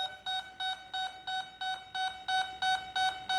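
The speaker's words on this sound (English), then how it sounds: "So it's beeping at me." Dynam PT-17 RC plane's electronic speed controller beeps during initialization: ten evenly spaced, sustained tonal beeps in steady rhythm, clear and close with no talking.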